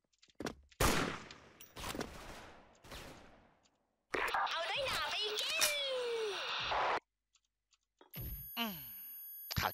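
Gunfire rings out in the online shooter Special Force, with several loud, sharp shots spaced apart early on, followed by busier game effects and bursts of speech.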